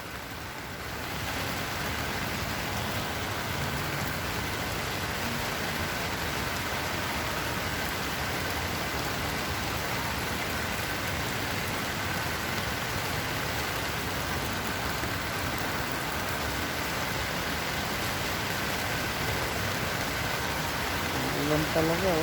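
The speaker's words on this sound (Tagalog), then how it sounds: "Ulan talaga oh." Steady rain falls throughout, a dense continuous hiss with droplets spattering nearby surfaces, and a faint engine hum underneath; no one speaks.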